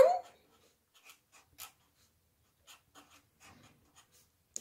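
Hand writing on paper with a pen or pencil: faint, scattered short scratching strokes in quiet near the microphone, with a brief louder sound at the start.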